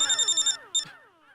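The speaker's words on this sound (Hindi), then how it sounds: "अरे अभी अटकलें लगाना छोड़िए और फोन उठाइए।" Electronic phone ringtone trilling in a rapid warbling pattern of about six pulses, a brief pause, then one more burst, clear and close with no talking.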